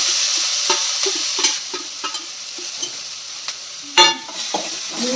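A spoon stirs a pan of oil after mustard seeds have popped, with the heat switched off. There is a soft sizzle under repeated scraping strokes and one sharper clack near the end, and nobody speaks.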